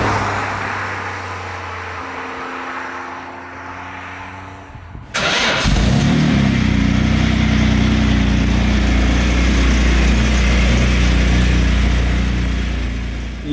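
A Jaguar XJ220 sports car engine cranks and fires midway, then idles loudly with a rough, rattling clatter that continues steadily to the end.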